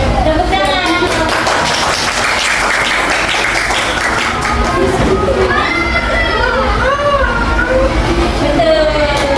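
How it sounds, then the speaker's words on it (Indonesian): Classroom applause, a sustained burst of clapping under chatter and children's voices, close and loud throughout. "Tepuk tangan."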